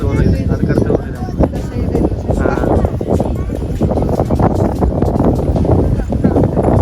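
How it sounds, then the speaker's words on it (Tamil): Strong wind gusts across a wide open site at the Isha temple grounds near Coimbatore, a loud continuous rushing roar buffeting the microphone for several seconds. "காற்று பயங்கரமாக அடிக்குது."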